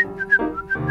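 A person whistles a lively melody of a 1934 song, clear and close, with a quick run of bright sustained notes.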